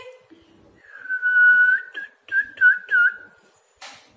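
A child whistles an imitation of a sooty-headed bulbul up close: one long, slightly wavering note, then a few short looping chirps, with pauses between.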